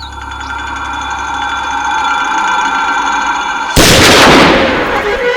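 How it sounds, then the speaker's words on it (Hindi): In a movie hunting scene, a single sharp gunshot bursts out near the end, loud and close, cutting through a steady droning background hum. "Good shot."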